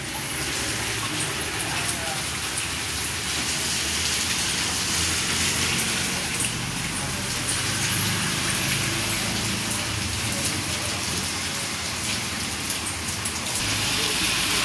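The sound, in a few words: rain falling at night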